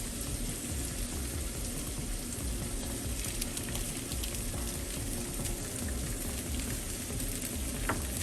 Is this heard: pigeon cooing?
no